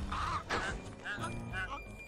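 Cartoonish ducks quack repeatedly in quick bursts in the Sly 2: Band of Thieves video game, close and fairly loud over game background noise.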